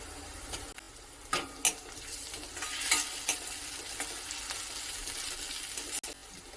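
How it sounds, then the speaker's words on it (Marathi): Onion and curry leaves sauté in hot oil with a soft, low sizzle, punctuated by a few sharp clinks and scrapes of a spoon against the pan. "कढीपत्त्याची पानं घालायची आणि थोडासा कांदा तेलावरती परतून घ्यायचा"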